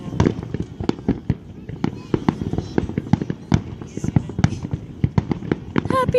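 July 4th fireworks go off in rapid irregular bursts of sharp cracks and pops, shooting in all directions, loud and close, while people talk and shout between the blasts.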